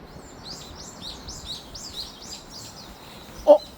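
Birds singing outdoors on an early morning, a string of bright chirping phrases repeated about seven times at moderate distance, ending with a sharp knock.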